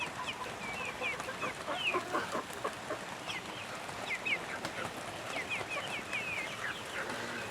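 Several chickens cluck and chirp steadily in a small, simple backyard coop, with short repeated calls spread across the whole stretch over a constant low farmyard background.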